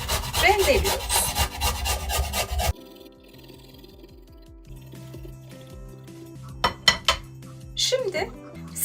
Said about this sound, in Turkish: Şimdi ince bir rendeyle rendeliyoruz.